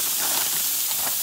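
Sausage sizzling in a frying pan in an RV kitchen, a steady bright hiss that is close and continuous over a brief moment.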